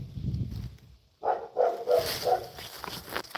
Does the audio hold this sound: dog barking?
yes